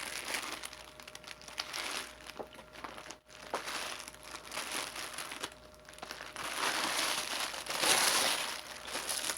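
Plastic wrapping on a Dance Dance Revolution dance mat crinkles and rustles during unboxing, a close, continuous crackling that swells louder toward the end with a brief pause midway.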